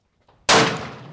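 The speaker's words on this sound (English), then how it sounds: "So, fire 3 rounds. Just want to see." A single .500 Magnum revolver shot, loud and close, with a sharp blast and a long rolling decay; a faint shuffle comes just before it.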